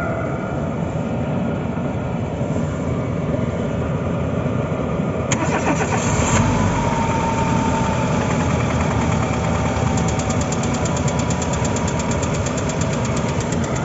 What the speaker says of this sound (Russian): клапан подстукивал из-за масла